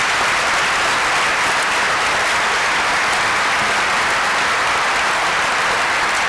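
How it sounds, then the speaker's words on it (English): Loud, dense applause from a school honors ceremony audience, a continuous roar of many hands clapping at a constant level throughout with no pauses. "Can we give these guys one big round of applause?"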